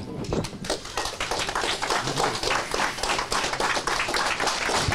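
Townspeople outside a court building in Enerhodar applaud the mayor as he exits, a crowd of individual claps rattling steadily and fairly close, outdoors, without talk.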